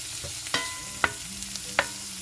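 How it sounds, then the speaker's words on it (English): A spoon stirs a vegan Spam mixture in a pan over light sizzling, with a few sharp scrapes and clinks against the pan spaced across a short stretch, close and moderately quiet. "Stir that in real good"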